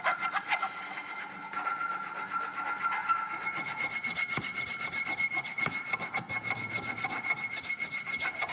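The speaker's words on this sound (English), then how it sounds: "I treat the wooden handle with oil" A cloth rubs oil into a wooden dao sword handle with copper wire inlay, making soft, close, repeated rasping strokes in a steady back-and-forth rhythm, with no voices.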